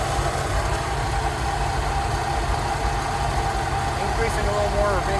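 A Rolls-Royce Silver Shadow engine idles steadily during carburettor tuning, a low continuous rumble filling the background while someone talks over it.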